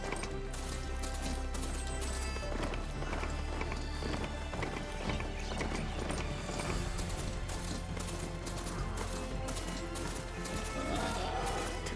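Horse galloping in Horizon Forbidden West on PS5: rhythmic hoofbeats with an occasional whinny, buried in a constant, loud mix of game music and ambience.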